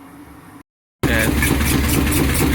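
A Sharp front-loading 8.5 kg washing machine runs with a low mechanical hum, then cuts out briefly before returning as a loud, close, vibrating rumble.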